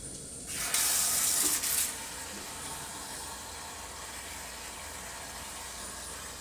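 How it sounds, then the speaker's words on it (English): Water from a tap pours briefly over chopped tree collard or cabbage for homemade coleslaw in a kitchen, a short hissing rush of about a second followed by a low, steady room hum. "We're going to top this with water."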